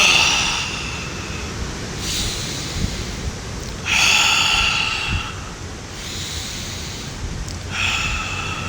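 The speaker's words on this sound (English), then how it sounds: "breathing in through the nose, exhaling out of the mouth" Slow, deliberate breathing: air drawn in through the nose, then released audibly out of the mouth, repeated in a steady cycle of about four close, airy exhalations with quieter inhales between.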